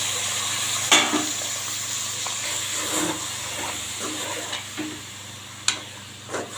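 Cleaned mutton lungs and fat frying in oil in a pan, giving a steady soft hiss with a few sharper pops and spits scattered throughout, fairly quiet and close.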